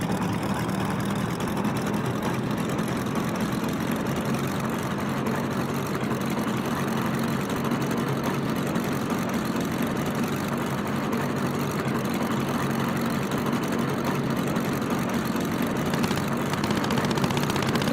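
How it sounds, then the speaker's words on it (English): A World War II fighter's piston aircraft engine in the Cliffs of Dover flight game runs steadily at a loud, constant drone for the whole stretch, with no voices over it. "Firing up the engine."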